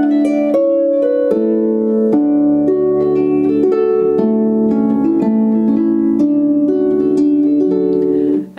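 A Celtic melody passes from the Athol Highlanders straight into Stirling Castle, played as a solo instrumental set with a quick, ornamented run of notes over a continuous drone. It stays loud and even throughout and breaks off abruptly at the end.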